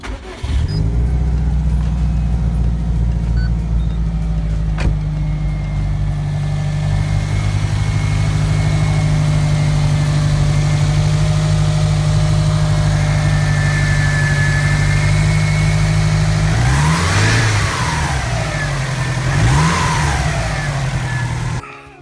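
A Subaru WRX STi fitted with an AVO airbox idles steadily and loudly up close, holding a deep, even rumble throughout, with a couple of brief revs near the end and no talk.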